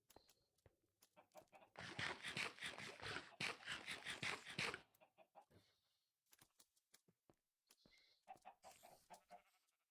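Chickens cluck in Minecraft, with several bursts of game clucking, one long dense stretch of overlapping calls and then scattered shorter clucks, fairly faint overall.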